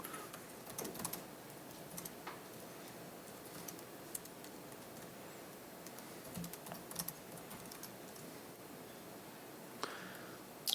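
Steady typing on a computer keyboard during a Python programming tutorial, a quiet close run of light irregular key clicks with a few louder taps and no talk.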